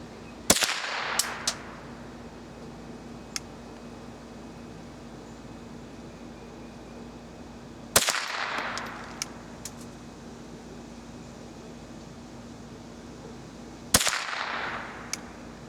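Three sharp .22 rifle shots with CCI Blazer ammo fired at a target outdoors, spaced several seconds apart, each a loud crack with a short ringing decay over faint steady background hum.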